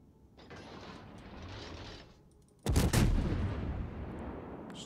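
Cruiser guns of a Fiji firing in a World of Warships naval battle: a muffled rumble, then one loud, heavy gun blast that rolls into a sustained roar and fades slowly.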